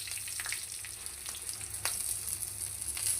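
Dried red chilies crackle and sizzle steadily in hot oil, a dense continuous frying hiss with a few sharper pops, close and moderately loud with no talking.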